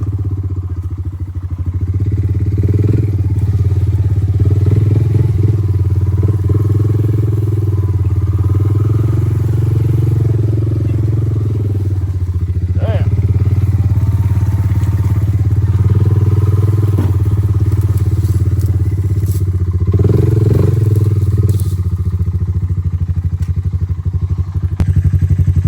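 A Honda Fourtrax 300 ATV fitted with a performance CDI box drones loudly and continuously as it churns through muddy trails, its engine note rising and falling with throttle amid occasional clatters and thuds.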